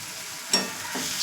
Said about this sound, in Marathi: बघा, मस्त मसाला फ्राय होऊ द्यायचा